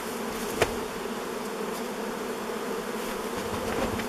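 Honeybees buzz steadily around a long-unopened beehive as it is worked with smoke, a close, continuous drone with a brief sharp knock early on.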